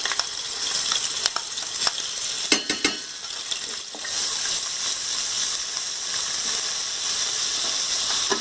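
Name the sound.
ginger garlic paste frying in oil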